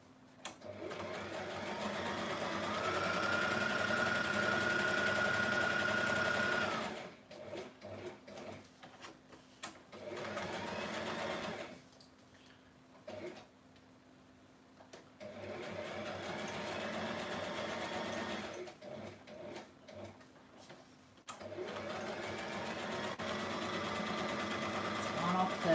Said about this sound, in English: This sewing is really rough.